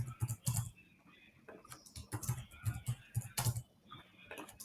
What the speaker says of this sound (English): Ah, I thought I was typing.